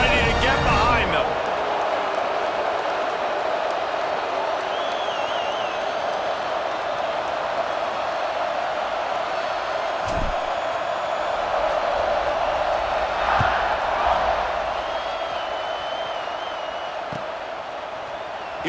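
Stadium crowd noise at kickoff in the college football video game EA Sports College Football 26, a steady broad roar with a few cheers and swells, filling the whole stretch under the game's atmosphere.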